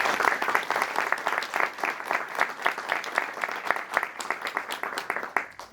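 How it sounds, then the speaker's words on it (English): A bookstore audience breaks into applause, a dense, lively burst of many hands clapping at close range that carries on steadily without any talk. "Let's give Lauren a big round of applause for her remarkable work enriching our community."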